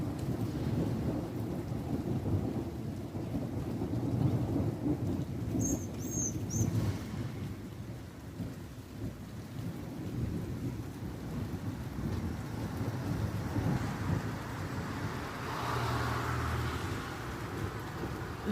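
Strong, highly electric thunderstorm in Linselles, France, in May: steady rain with repeated deep rolling thunder rumbling through, fairly close and loud throughout.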